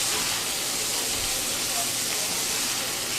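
Fennel Italian sausage and onion frying in a little oil in a pan, a loud, steady sizzling hiss held close and continuous throughout.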